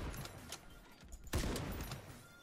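A bolt-action sniper rifle shot in the shooter game Ironsight: one sharp report about midway through, with a short tail, set against low game ambience and quieter handling clatter.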